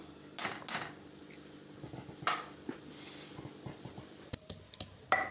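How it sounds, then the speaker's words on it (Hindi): Minced meat keema fries with tomato paste in a pan, giving a soft continuous sizzle with scraping stirs and a few sharp knocks of a utensil against the cookware; there is no talking. "साथ ही हमारा कीमा भी भून रहा है"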